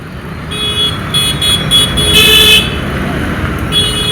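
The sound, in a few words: road traffic jam near railway gate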